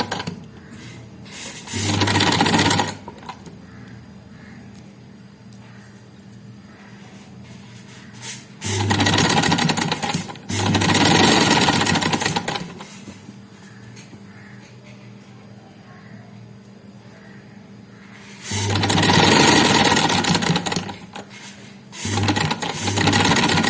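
Sewing machine stitching a sherwani seam, sewing a line of stitches inside an earlier row after pleating, in bursts of steady whirring separated by quiet pauses, close and loud.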